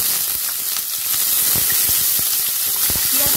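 Chopped onions sizzle in hot oil in a heated wok while egg devils are being made, giving a steady, close frying hiss dotted with small crackles and stirring ticks.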